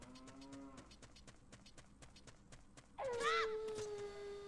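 A cow in the video game Ocarina of Time gives a loud, long moo in the second half, after a run of rhythmic clopping hoofbeats.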